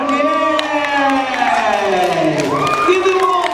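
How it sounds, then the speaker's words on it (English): Audience at an elementary school magic show breaking into sustained applause and cheering, a dense wash of clapping with voices mixed in throughout. "Give them all a big round of applause"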